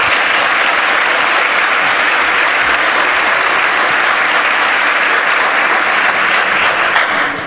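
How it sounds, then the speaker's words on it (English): A large conference audience at a hacker congress applauds steadily for an incoming speaker, a dense, loud, continuous wash of clapping from many hands that holds for the whole stretch with no voices on top. "Give FX a huge round of applause for the schooling on disassemblies he's going to give you right now."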